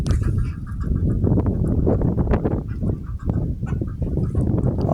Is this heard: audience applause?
no